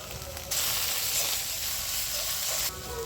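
Salt, turmeric and chilli powder hitting hot oil in a pan while making a spicy bhola fish and potato curry, a steady close hiss that swells louder for a couple of seconds before settling back.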